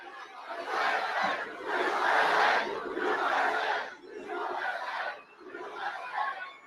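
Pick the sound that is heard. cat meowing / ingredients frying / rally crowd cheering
rally crowd cheering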